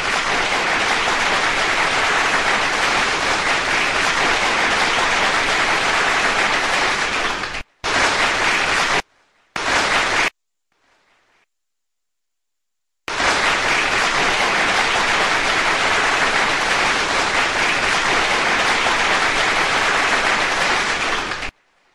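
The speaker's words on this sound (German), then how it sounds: "kriegt ihr jetzt mal Applaus, dass ihr so geduldig gewartet habt" Audience applause, a loud, dense and steady clapping that runs for several seconds, breaks off into brief gaps and silence, then resumes just as strongly.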